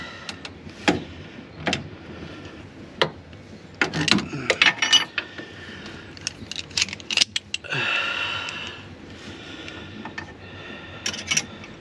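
A ratchet wrench clicks while loosening a tight bolt on a car's steering, heard in short metallic bursts of rapid clicks separated by pauses, close and fairly loud, with one longer grinding stretch midway.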